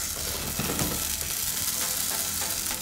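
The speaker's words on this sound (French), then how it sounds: "Je vais dorer les bananes. J'ajoute un morceau de gingembre et un peu de citron." Bananas browning in a pan with a piece of ginger and some lemon, a constant loud close sizzle and frying hiss with light stirring scrapes, no talking.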